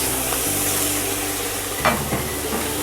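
Tomatoes go into a hot pan of puffed rice upma and sizzle steadily, a loud continuous frying hiss with a few stirring scrapes, close up and without talk.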